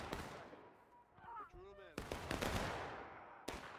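Musket volley from a firing line in the War of Rights video game, sharp cracks and rolling gunfire bursts at moderate distance, with a voice shouting briefly amid the shots.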